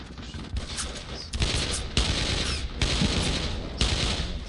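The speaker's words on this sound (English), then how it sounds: "Assault rifle." Assault rifle fire in the Brothers in Arms World War II shooter game comes in dense, loud sustained bursts, close and continuous, with brief gaps between volleys.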